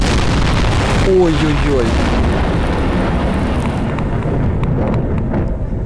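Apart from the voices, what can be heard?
bomb explosion in video game Garry's Mod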